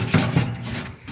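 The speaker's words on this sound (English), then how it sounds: "Gonna give it a scrub quick." Grill grates coated in tar and burnt debris are scrubbed with a brush, two quick close scraping strokes of harsh rubbing over a smoking grill.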